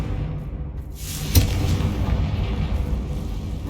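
Confringo blasting spell in a Harry Potter video game: a single sharp blast that settles into a low, rumbling roar over ongoing game ambience.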